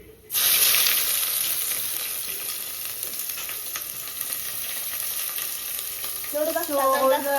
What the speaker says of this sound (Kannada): ಜಸ್ಟ್ ಹೋಲ್ ಸ್ಪೈಸಸ್ ಅಂಡ್ ಈರುಳ್ಳಿ ಫ್ರೈಗೆ